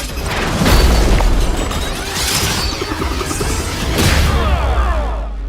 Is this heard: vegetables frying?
no